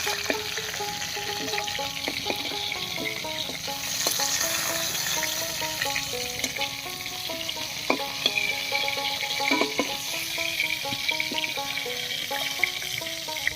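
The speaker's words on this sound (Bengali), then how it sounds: "মাছগুলো ভেজে নিলাম।" Fish pieces fry in hot oil in a home kitchen while cooking a Bengali fish curry, a steady close sizzle with occasional crackles and light clinks of a utensil, no talking.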